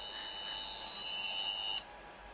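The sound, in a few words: alien radio sound from Appzilla 2 app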